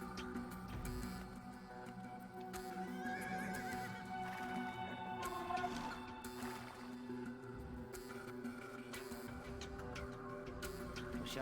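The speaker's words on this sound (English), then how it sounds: "they're actually building a horse" Horses neigh and whinny in the Age of Empires 2 video game, several shrill calls layered with clip-clopping hooves and game effects, fairly close and clear, with no talk over them.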